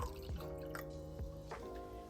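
Faint tomato sauce and hot water dribbling and dripping, a few soft splashes with gurgling tones, quiet and close with no talk.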